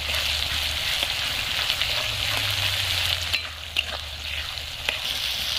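Chili paste sizzles steadily in hot oil for a red chicken curry with kohlrabi. The frying hiss is continuous and close, with occasional faint clicks from stirring.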